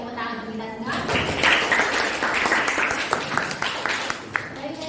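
Students in a classroom applaud together, a loud burst of clapping that rises quickly and fades out, with a voice speaking over the start and end.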